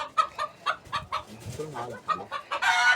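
Ducks and other poultry feed together on a rooftop, giving repeated close clucking and squawking calls in quick irregular bursts, with a rising noisy flurry of calls at the end.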